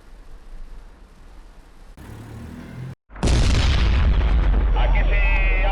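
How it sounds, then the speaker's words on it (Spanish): A gas explosion arrives as a sudden heavy boom after a brief dead silence, then swells into a loud, sustained roar that follows lower, muffled rumbling. "efectivamente ha habido una explosión de gas"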